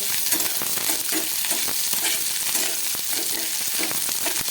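Pieces of four green chilies sizzle in hot oil in a pan for Indian matar paneer, a steady, close, loud frying hiss with occasional stirring scrapes and spatters, no voices.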